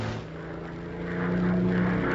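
An early propeller airplane in flight drones steadily with a low, even engine hum that swells a little louder partway through, with no voices.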